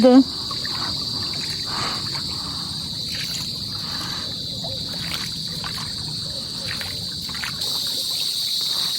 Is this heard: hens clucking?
no